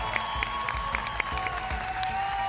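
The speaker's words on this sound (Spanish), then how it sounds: "El aplauso para estas dos super finalistas." Studio audience applauds two finalists at the grand final of a masked singing competition show, a dense, steady wash of clapping and cheering close by with no talk over it.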